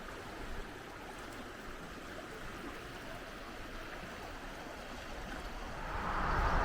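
The St. Mary's River flows below a riverside picnic area at Stonewall Park, a steady, soft rushing of water heard from some distance that swells slightly toward the end.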